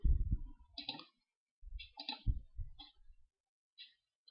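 Computer mouse clicks while working in VirtualBox settings: a few quiet, sharp clicks arriving irregularly with short silences between them.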